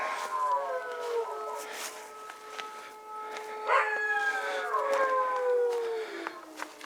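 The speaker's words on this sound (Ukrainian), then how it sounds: "Це вже за сьогодні п'ята чи шоста повітряна тривога." A wailing air raid siren in Ukraine rises and falls across several seconds, heard from a distance outdoors, with a dog howling along partway through.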